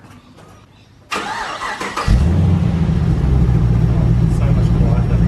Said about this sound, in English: I'm gonna start it up and see if there's any leaks, see what it sounds like.